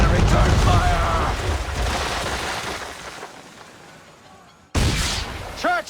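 Naval cannon fire in Assassin's Creed III as enemy ships close in: heavy rumbling volleys and blasts that fade gradually, then a sudden loud burst returns near the end, with voices mixed into the battle noise.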